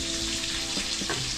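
Onion fries in hot oil for a Filipino ginataang tambakol dish, giving a dense, even sizzle close by with a couple of stirring scrapes near the end and no voices.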